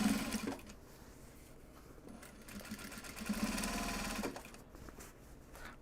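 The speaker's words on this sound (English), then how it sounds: "Last white top stitching." Sewing machine running steady bursts of top stitching on Japanese fabric for project bags, with brief pauses between runs, close and fairly quiet.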